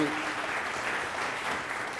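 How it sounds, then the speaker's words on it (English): An audience applauds panelists at a forum on the LGBTQ+ community, a short, even wash of clapping heard from a distance at moderate volume, with no break in it. "let's give our panelists another round of applause, please."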